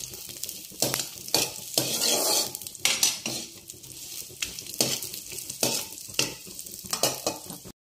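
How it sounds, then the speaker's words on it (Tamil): Onions and tomatoes fry in a pan with a continuous sizzle while a utensil stirs, scraping and clanking against the metal in irregular bursts, loud and close, with no talking. "நல்லா வறுத்துட்டு சிம்மிலே வச்சு நல்லா ஃப்ரை பண்ணணும்."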